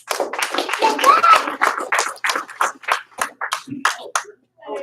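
A class of students claps for a classmate in short rhythmic bursts, close and lively, mixed with voices chanting and talking along.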